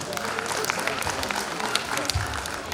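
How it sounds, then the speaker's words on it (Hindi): An audience claps at a school annual function in Udaipur, giving a dense, steady patter of applause across the stretch with some crowd murmur and voices mixed in. "इनके लिए खूब तालियां बजाइए"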